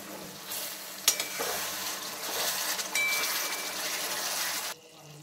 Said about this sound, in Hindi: तो फिर लीड लगा करके मसाले को भुनने देते हैं।